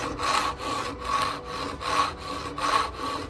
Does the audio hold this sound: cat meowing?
no